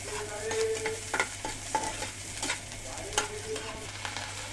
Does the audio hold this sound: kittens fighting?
no